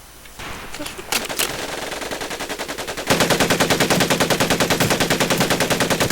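An automatic weapon in the Medal of Honor Pacific Assault video game fires, with a few scattered shots first, then sustained rapid bursts of loud, evenly spaced reports that fill the second half.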